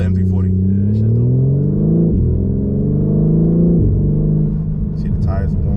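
BMW M340i engine and exhaust pulling through rising revs under acceleration, with a shift partway through. The drone is loud and steady from inside the car.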